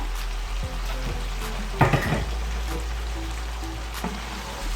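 Long-cut potato strips sauté in a pan for a fish curry with winter beans and mrigel fish. A low hiss runs under a steady hum, with one brief, louder clatter of stirring near the middle.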